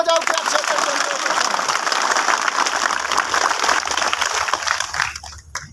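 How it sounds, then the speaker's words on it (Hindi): Loud, dense applause from a crowd of villagers at a roadside protest blockade, a steady clapping roar filling the whole stretch before it trails off at the end. "जोरदार ताली बजाओ"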